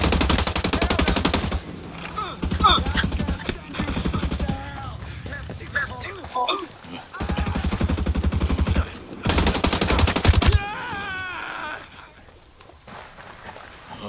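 Machine-gun fire in Ghost Recon Breakpoint, loud rapid bursts in two long volleys with scattered shots and rustling movement between them, ending in quieter ambience.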